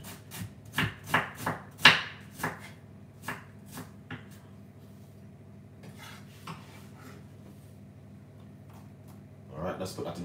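A knife finely dices red onion on a cutting board, a run of sharp taps that slows and fades, with quiet kitchen clatter near the end.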